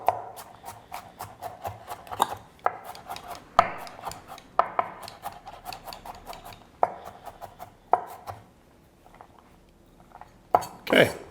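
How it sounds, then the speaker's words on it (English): Garlic is chopped into fairly big chunks, then finer, with a knife on a board: a run of sharp, crisp knocks in irregular bursts, close and clear, pausing briefly before a final flurry. "so let's just chop that up a little"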